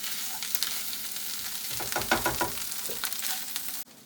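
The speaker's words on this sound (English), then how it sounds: "mix the chorizo around, and let it cook for a little bit" Chorizo and potatoes fry in a pan for papas con chorizo, a steady close sizzle broken by a quick cluster of spatula scrapes and stirring knocks midway, with no talking.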